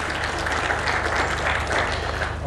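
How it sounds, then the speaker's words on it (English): A conference audience claps in dense, loud, continuous applause for the whole stretch. "please let us give them a round of applause"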